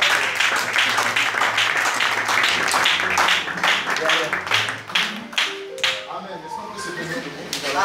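A church congregation claps and acclaims the Lord, brisk close applause filling the first several seconds, then thinning as voices rise into sustained sung or called tones.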